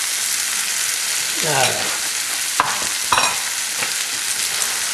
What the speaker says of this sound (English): the chickpeas, and the black beans, the garlic, and the shallot in the oil just for a second or two